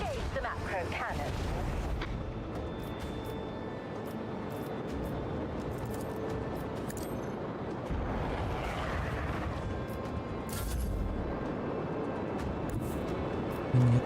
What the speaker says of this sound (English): Engage the macro cannon.